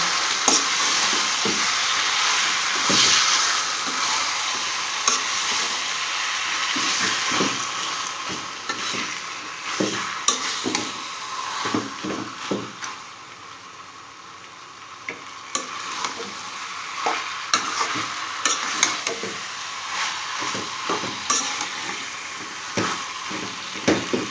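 Sweet, sour and spicy elephant apple (chalta) pickle is stirred in a pan, producing a constant sizzle with repeated spoon scrapes and knocks that grow more spaced and distinct toward the end, with no voices.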